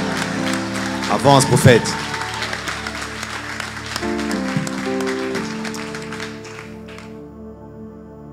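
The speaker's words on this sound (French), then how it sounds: "Moi, balancez les mains. Acclame bien, comme ça tu m'encourages à continuer." A church congregation applauds and cheers under a preacher's amplified speech, with a burst of louder clapping early on, then sustained crowd noise that fades toward the end.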